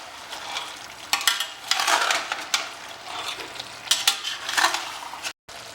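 Two chopped onions sizzle and fry in a pan for a green chilli chicken curry gravy while a spoon stirs and scrapes in irregular bursts, close and fairly loud, with a brief silent gap near the end.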